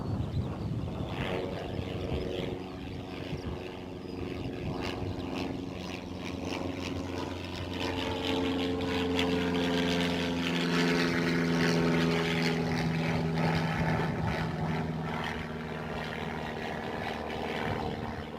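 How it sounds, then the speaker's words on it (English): An EasyJet airliner rolls for takeoff at Bristol Airport, its engine roar building and sustained with rising tonal whine, heard from a distance through wind noise. "Okay, EasyJet on the roll."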